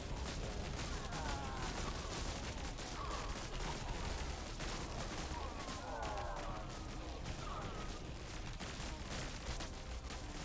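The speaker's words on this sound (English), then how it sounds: "Oh, they're actually bombing us or something?" Bombing and tank fire in the Buggos 2 video game on hard difficulty, a dense, continuous barrage of distant explosions and gunfire rumbling steadily throughout, with a voice speaking now and then beneath it.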